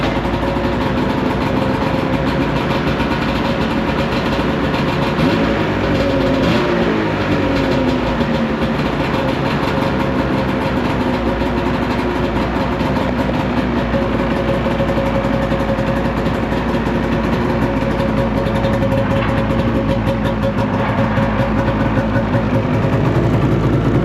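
A Ski-Doo Summit snowmobile sits idling close by, its engine holding a loud, steady mechanical drone with a faint rattle that runs unchanged throughout.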